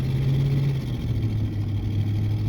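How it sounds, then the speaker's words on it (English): A 2002 Ford F-150 XLT pickup truck with an exhaust leak idles nearby, giving a steady, close, low engine rumble that holds evenly throughout with a slight drop in pitch partway. "except for that exhaust leak"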